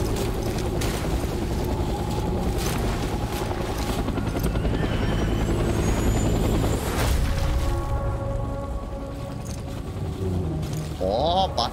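Helicopter in the video game Death Stranding, a loud continuous rotor thrum and engine drone that dominates throughout, with a voice briefly over it near the end.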